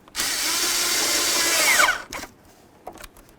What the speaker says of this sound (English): and now we'll snug up the clamp